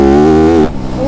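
A Yamaha YZ250F dirt bike engine, ridden in fourth gear without the clutch, gives a loud, close, buzzing tone that climbs slightly in pitch before cutting off abruptly.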